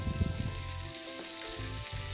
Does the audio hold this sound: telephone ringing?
no